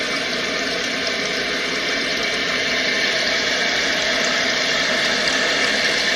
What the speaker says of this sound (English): It's refilling the bowl.